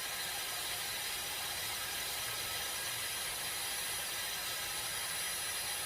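Dyson Airwrap hair styler on a cold blast setting, a steady faint airy hiss and whir of blowing air, continuous and unchanging.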